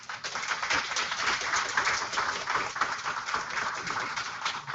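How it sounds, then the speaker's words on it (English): Audience applause at a university public health school's new student boot camp, a steady wash of clapping from a crowd lasting the whole stretch at even loudness with no talk over it. "please give him a round of applause"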